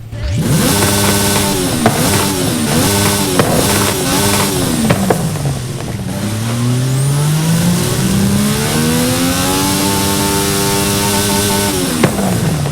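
A high-pitched video game AMG One engine, a 1.6-litre V6 hybrid revving to 11,000 rpm with four electric motors, in Forza Horizon 5, revs repeatedly, rising and falling in pitch, then climbs in long sweeping accelerations, loud and continuous with no talking.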